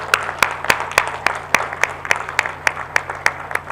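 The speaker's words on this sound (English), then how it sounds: "give them a huge round of applause for all the help they've given you" At a University of Greenwich graduation ceremony for PIBT Sri Lanka, a rhythmic, evenly spaced clapping rises sharply above a steady hall hum, with fainter applause from the crowd beneath it.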